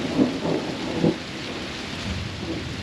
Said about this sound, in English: Yeah, lightning strikes.